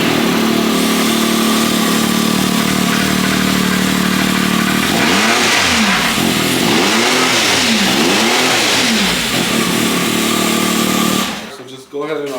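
A car engine, stock and without a blow-off valve, idles and then revs in several rising and falling sweeps, loud and close, ending with a brief bump.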